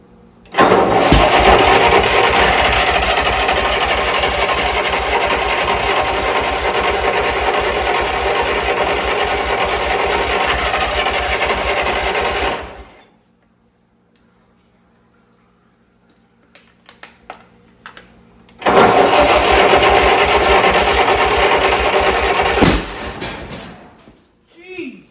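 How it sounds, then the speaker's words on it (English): Old Bobcat skid steer engine cranking and running loudly for about twelve seconds, cutting out to near silence with a few clanks, then roaring again before stopping; no distinct backfire bang stands out. "Backfired out the exhaust."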